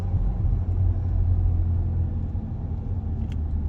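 A manual Volkswagen Golf R MK8 idles with a steady low rumble heard from inside the cabin, a constant engine drone with no revving, alone and fairly loud.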